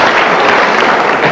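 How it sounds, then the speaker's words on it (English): Studio audience clapping at a late-night talk show taping, a steady, dense wash of applause filling the whole short moment at even loudness, with no voices over it. "Only half the audience clapped."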